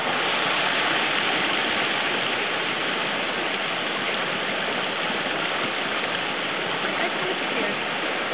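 Creek water on the Split Rock River rushes in a steady, broadband wash, a close and continuous flow with no voices heard over it.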